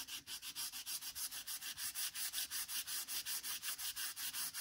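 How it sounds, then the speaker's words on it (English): A small sanding pad rubs along the painted edge of a wooden door tag in quick, regular back-and-forth strokes, a close, soft scratching rhythm repeated about five times per second. "I took my little sanding pad, and what I did is sand it along the edge"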